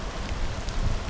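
Steady rain falling outdoors during a tree planting, a continuous dense hiss with soft patter on surfaces and no speech.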